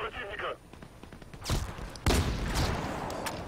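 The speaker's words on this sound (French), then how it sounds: "Regarde, on me tire dessus, ça fait mal" Bursts of gunfire in Battlefield Play4Free on the Sharqi desert map, loud close shots and rapid volleys following a brief stretch of a voice speaking.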